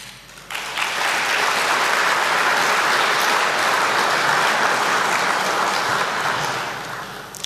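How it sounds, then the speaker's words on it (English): An audience bursts into sustained applause after a speech at a public address, a dense, loud wash of clapping that rises quickly, holds steady for several seconds, then starts to fade. "I'm happy you clapped."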